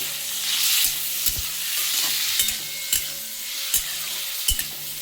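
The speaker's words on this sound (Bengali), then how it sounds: "আর দিকে চিংড়ি মাছটা আমি ভেজে নিচ্ছি" Prawns fry in a pan with a soft steady sizzle, broken every second or so by spatula knocks and scrapes against the pan, close up and with no speech.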